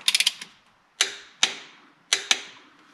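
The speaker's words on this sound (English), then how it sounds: "We'll torque it down to 10 pounds, and then we'll come around and torque it to 20 pounds on all of those." A torque wrench tightens intake manifold bolts on a 289 or 302 engine, giving a quick burst of clicks and then several sharp isolated clicks, crisp and close in an otherwise quiet space.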